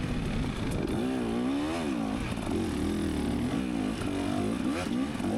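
An ATV engine revs hard while pulling a wheelie up a hill on single-track trail, its mid-pitched drone rising and falling in pitch with throttle changes, loud and close for several seconds.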